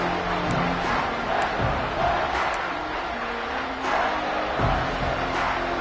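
Stadium crowd noise in the College Football 26 video game, a steady broad roar of many voices with occasional swells, holding at a constant level throughout.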